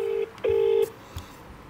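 Telephone keypad tones from a call to plumbers in Wellington: a short DTMF beep, a brief pause, then a longer steady tone, clear and close with no talk.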